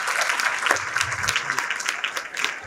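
Audience applause at a school event honouring Gujarati and English medium nursery, junior and senior KG children, a steady mid-level clapping with no break throughout, somewhat distant.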